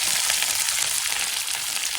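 Onion and sliced green chilli frying in hot oil with garlic and spices for a cauliflower, bean and potato bhaji, a steady close sizzle that holds evenly throughout without pause.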